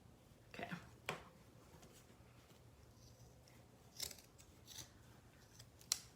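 Scissors make a few faint, separate snips while cutting up through a sweater from under the armpit, quiet and close with soft rustling between cuts.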